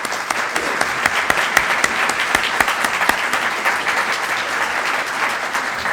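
An audience claps steadily in a lecture hall to welcome lecturer Conrad Weiner, a dense, even wash of many hands that holds at full strength throughout, with no voices over it.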